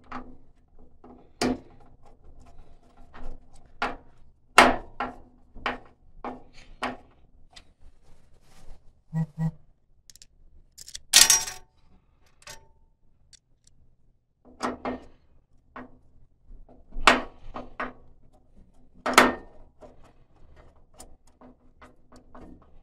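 Screws are driven in while a Bobcat S15M panel is assembled, giving a series of sharp, separate clicks and knocks at irregular intervals, close and fairly quiet, with brief scraping between them.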